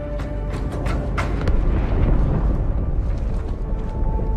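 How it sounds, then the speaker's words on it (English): A deep, rumbling blast from inside the ship Athens in a Halo 2 cutscene, a sustained low roar with scattered bursts and crackles that swells toward the middle and stays loud throughout. "That explosion came from inside the Athens."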